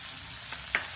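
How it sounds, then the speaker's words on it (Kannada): Spice powders (garam masala, coriander, cumin and pepper powder) frying in a pan for egg biryani give a soft, steady sizzle with a couple of brief stirring scrapes near the end. "ಇದಿಷ್ಟನ್ನು ಹಾಕೊಂಡು ಸ್ವಲ್ಪ ಫ್ರೈ ಮಾಡಬೇಕು"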